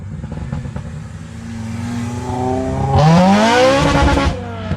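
Modified Honda Civic with a VTEC engine revving hard, the engine note climbing steeply in pitch and then easing off, loud and close, with crackling exhaust pops and bangs over the top.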